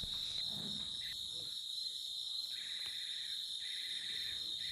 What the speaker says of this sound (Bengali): নিস্তব্ধ চারপাশে শুধু ঝিঝি পোকার ডাক।